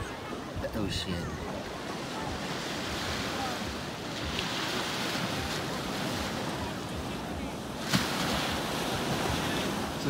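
Ocean surf at a beach in Kona, Hawaii: a steady, loud broadband roar of breaking waves with wind buffeting the microphone, continuous throughout, with a brief sharper splash near the end.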